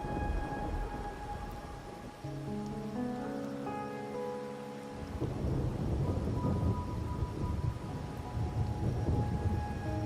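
Steady rain hisses throughout while a deep rumble of thunder rolls through the first half, then the downpour grows heavier and closer, in the video game Wuthering Waves.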